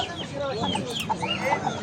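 Hens cluck and chatter at a busy poultry market, several birds calling at once close by, with a dense crowd murmur and a voice underneath.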